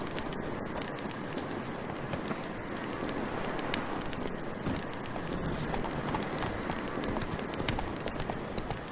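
Hooves of a horse in The Witcher 3: Wild Hunt clip-clop in a steady, close rhythm over a continuous ambient bed, with no talk.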